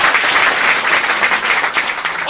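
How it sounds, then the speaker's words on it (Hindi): Audience applause at a DXN business seminar in Qatar, a dense, steady wash of many hands clapping close by and loud throughout, with no speech over it. "तो सबके लिए जबरदस्त एक जोरदार ताली।"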